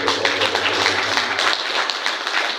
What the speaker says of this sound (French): Alors il est bien bon qu'on puisse tous applaudir nos aînés ici.